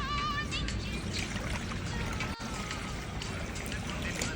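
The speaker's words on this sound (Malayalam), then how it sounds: "നൂഡിൽസ് തയ്യാറാക്കാൻ ഒരല്പം വെള്ളം ഒഴിച്ചു കൊടുക്കാം" Water pours steadily into a pan to cook chicken noodles, a continuous close splashing rush that runs through the whole stretch without a break.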